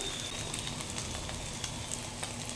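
An egg frying in a pan gives a constant close sizzle with crackly pops and spits throughout, and no voices over it.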